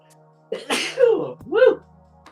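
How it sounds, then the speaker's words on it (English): A person sneezes indoors, with a short breathy intake and a sharp burst, then a second voiced sneeze right after, close and loud against a quiet room with a faint steady hum. "I suddenly get a sneezing attack."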